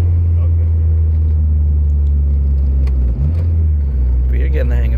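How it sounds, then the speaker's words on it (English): A manual-gearbox car is driven at night and shifted into second, its engine giving a steady, loud low rumble with a brief dip mid-shift; people talk in the car over it. "You always got to make sure it's fully in second before you let it out."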